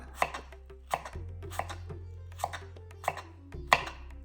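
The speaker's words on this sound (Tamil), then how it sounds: "green apple நறுக்கணும்" A knife chops a green apple steadily on a cutting board, six crisp cuts at a slow, even pace, close and clear over a low hum.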